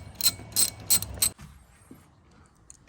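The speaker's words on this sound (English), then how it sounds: "these are 14 millimeters, so just get your standard ratchet and socket. Start loosening that." A standard ratchet and socket loosens 14 mm bolts during a coilover install on a 2022 Toyota Corolla Apex, giving four quick, loud ratcheting bursts in an even rhythm, then a near-silent pause.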